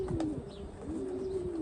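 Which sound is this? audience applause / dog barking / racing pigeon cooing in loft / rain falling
racing pigeon cooing in loft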